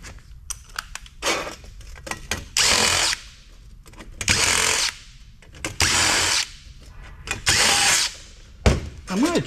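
A power drill with a Phillips bit backs screws out of a Starbucks kiosk's sheet aluminum, with several short, loud whirring bursts separated by quiet pauses, clicks and clunks.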